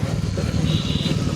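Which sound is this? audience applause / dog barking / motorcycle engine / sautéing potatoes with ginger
motorcycle engine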